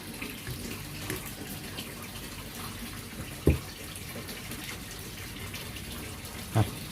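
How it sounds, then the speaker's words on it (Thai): Fresh water runs steadily into a fish tank for baby molly fry, a soft continuous trickle and splash at moderate distance, with a couple of brief knocks. "ก็เติมน้ำใหม่ครับผม"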